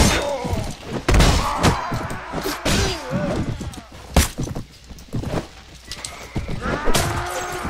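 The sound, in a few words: horse neighing and hooves, from the video game Mount & Blade Warband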